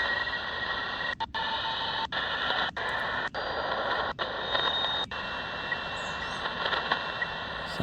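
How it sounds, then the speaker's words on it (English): Shortwave reception on a Sangean ATS 909 scanning the 8–9 MHz band in a park: a steady hissing, tonal data signal like a weather fax, with sharp static crash dropouts recurring about once a second, at moderate level. "Sounds like a weather fax coming on."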